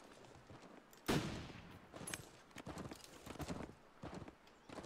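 Gunshots ring out in The Long Dark, a winter survival game: one sharp, loud shot is followed by a run of fainter, irregular bursts over a low background.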